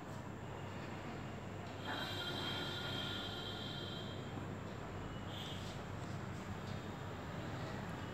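A Bachmann HO scale model electric locomotive of the Chinese SS9G type runs steadily, giving a continuous mechanical whir and rolling rumble with a faint high squeal for several seconds, no talking.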